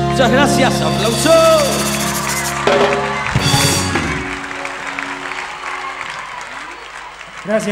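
A theatre concert audience at the Gran Rex applauds and cheers as the band's music winds down, the clapping swelling loud and then tapering off.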